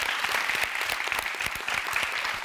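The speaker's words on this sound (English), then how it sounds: "Round of applause for that debate." Following a debate about racism, an audience gives steady, moderately loud applause. The clapping is even throughout and continues to the end.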